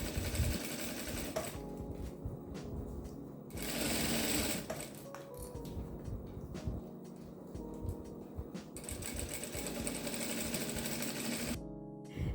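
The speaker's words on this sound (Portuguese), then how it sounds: "Dá um retrocesso e vamos costurar" A sewing machine stitches clear plastic into a baby clothes organizer, running in a steady close whir with brief pauses and speed changes over about twelve seconds and stopping near the end.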